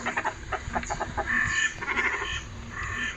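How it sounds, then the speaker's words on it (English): Goat bleats played back by a small electronic gadget at a Great Yarmouth holiday park campsite, a run of repeated nasal bleating calls, close and fairly loud, with no talk. "And it keeps doing a goat sound at me."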